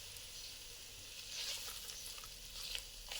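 Whole spices tempering in hot oil for an Andhra-style brinjal pickle give a steady, fairly quiet hiss with a few louder crackling bursts, heard alone without any voices.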